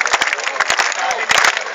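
An audience claps in dense, lively applause at a Hindi poetry recital, a kavi sammelan, at ABES Engineering College in 2012, with individual hand claps standing out.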